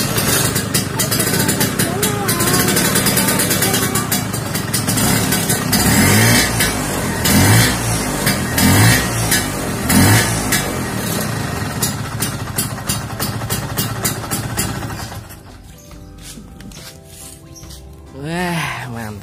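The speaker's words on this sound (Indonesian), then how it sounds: "Vespanya digas langsung bersih, nggak kayak punya aku" A green Vespa scooter engine revs in bursts and then settles toward idle, loud and near, with rhythmic throttle blips before the sound drops off and voices come in at the end.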